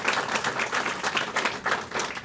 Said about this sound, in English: giving our police department a round of applause